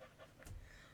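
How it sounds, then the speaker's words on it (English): A dog pants in a faint, steady, breathy rhythm for about a second, heard close by in a quiet room. "Yeah, you can hear the panting,"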